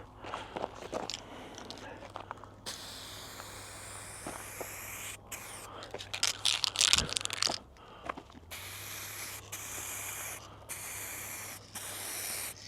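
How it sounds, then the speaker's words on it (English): An aerosol spray can applies clear coat to an A-10 RC jet outdoors. Bursts of hissing spray come and go with brief pauses, mixed with rustling and handling noises. There is no talk. "So when you're putting the clear coat on, it's very much the same process as the paint."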